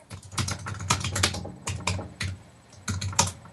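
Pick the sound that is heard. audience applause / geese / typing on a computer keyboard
typing on a computer keyboard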